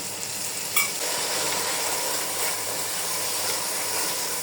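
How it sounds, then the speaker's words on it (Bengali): Spiced masala frying in a pan sizzles in a steady, dense hiss after a splash of water goes in, with one brief louder burst near the start, continuing evenly throughout. "তখন আমি এখানে সামান্য একটু পানি দিব"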